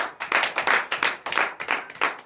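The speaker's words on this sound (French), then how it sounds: "Donnez l'acclamation à Jésus." A church congregation claps together in acclamation during a morning prayer service in Benin, a loud, fairly rhythmic burst of many hands with regular pulses and no talking.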